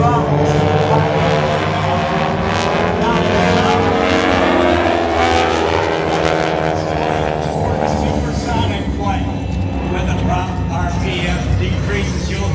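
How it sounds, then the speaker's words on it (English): A loud, droning 600-horsepower propeller aircraft engine roars steadily at an airshow, pitch slowly shifting, as a commentator talks over it throughout. "you'll hear the engine sound of 600 horsepower"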